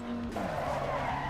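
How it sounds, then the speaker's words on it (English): Ferrari 488 GT3 Evo in a racing video game locking up under hard braking at the Nürburgring, a loud sustained tire skid with engine tone dropping over about a second, no talk. "I brake somewhere here, and car's not stopping"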